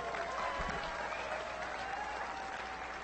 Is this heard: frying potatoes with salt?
no